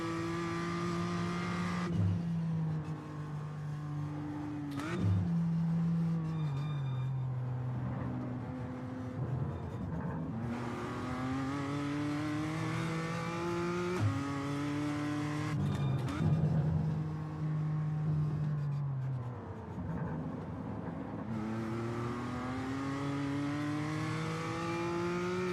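A Porsche race car engine in iRacing at Bathurst howls through repeated rising gear-by-gear accelerations, with sharp upshift breaks and brief lifts off throttle, loud and close from onboard, barely any talk.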